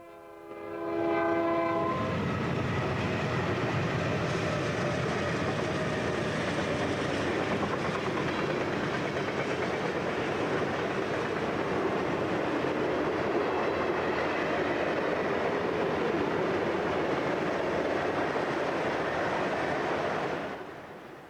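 Union Pacific freight train heading north behind CSX locomotives opens with a loud sustained horn blast, then rumbles past close by in a steady, heavy roar of wheels and cars for the rest of the clip.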